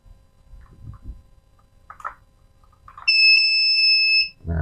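Homemade PIR motion-sensor anti-theft alarm built without an IC or Arduino, a loud, steady high-pitched electronic beep tone that starts abruptly after faint handling clicks and sounds for over a second before cutting off.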